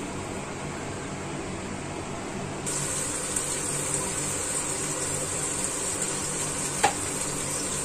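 A pot of watercress and fish soup boils with a steady, soft bubbling simmer close by, a constant broadband wash that thickens partway through, with one brief clink near the end and no talking.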